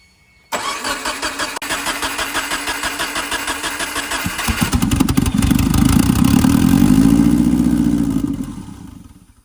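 A 2011 Subaru WRX engine cranks and catches, then idles loudly and roughly close by, its low rumble swelling before dropping away as it shuts off after about eight seconds.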